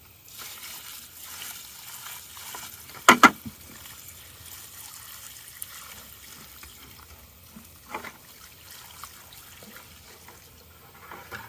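Water poured from a bucket onto a dry, thirsty grapevine in a garden during a heatwave, a soft trickling splash running through the clip with a couple of louder sloshes near the start, close by and fairly quiet.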